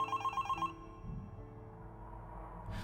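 A telephone ringing inside a public phone box on the street, a few quick electronic trills that stop abruptly, followed by quiet low background hum.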